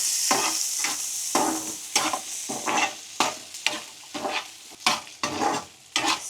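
Green chickpeas (jinjara) frying in a pan with asafoetida, stirred steadily so a close sizzle is broken by rhythmic scraping strokes of the spoon, with no voices.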